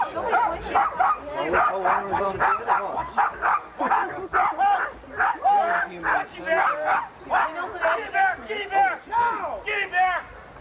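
A dog barks and yips repeatedly in a rapid, steady series of close, loud yelps at a 1981 DVG dog-training seminar, with people talking over the barking throughout.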